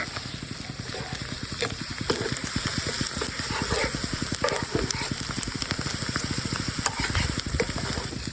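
Onion fritters frying in hot oil, with a dense continuous bubbling sizzle and a fast rapid crackle running throughout, close and steady with no speech.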